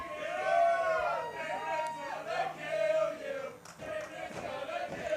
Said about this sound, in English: As the crowd sings in chorus, Bateman's gonna kill you.